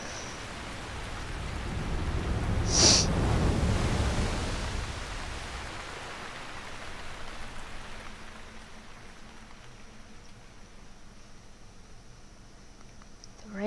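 Rain in the video game Zelda: Breath of the Wild, a broad steady wash of falling water that swells early, then slowly thins and fades, with a sharp bright chime near the start.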